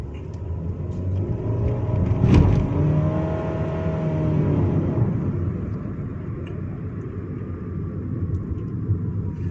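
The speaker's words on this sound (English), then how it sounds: "CVT transmissions are known for the droning effect or the rubber band effect" Honda City with a CVT transmission droning steadily under acceleration, a continuous low engine rumble inside the cabin with a brief louder swell early on, then a sustained even hum.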